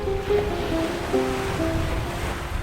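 Ocean surf washes steadily against the shore, a broad continuous rush mixed with wind, while a few faint tonal notes drift above it.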